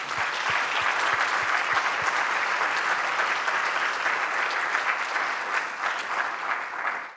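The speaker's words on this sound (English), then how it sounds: "One more round of applause," A conference audience applauds panelists after a science communication session, a full, even wash of clapping lasting throughout, with a few distinct sharper claps near the start.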